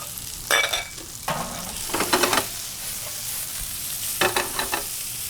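Mushrooms, shallots and sliced garlic fry in a pan with a steady loud sizzle, broken by several bursts of scraping as the mix is stirred. Nobody speaks.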